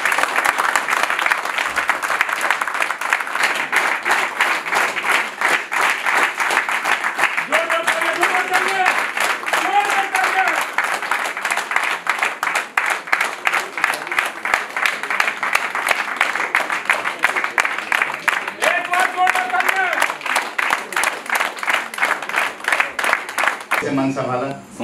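An audience gives a standing ovation welcoming a speaker, a long, loud, even stretch of dense clapping with a few brief vocal calls and voices rising over it, stopping abruptly at the end.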